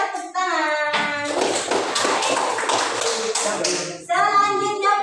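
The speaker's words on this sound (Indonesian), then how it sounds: "Kita tepuk tangan." A class of children claps together in a dense, loud burst lasting about three seconds, with the teacher's voice just before and just after the applause.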